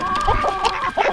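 Chickens on a homestead clucking and murmuring close by, a few short overlapping calls in quick succession over a faint hum, with no talk.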